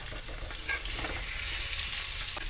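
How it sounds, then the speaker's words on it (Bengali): Boiled potatoes fry in hot oil in a pan, giving a steady, close sizzle with faint stirring scrapes throughout, no voices. "লাল লাল করে ভেজে নেব।"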